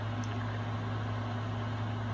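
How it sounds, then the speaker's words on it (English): A steady, low electric hum and buzz from a running room fan drones throughout at a constant level, faint and unchanging with no other sounds. "That's just my fan"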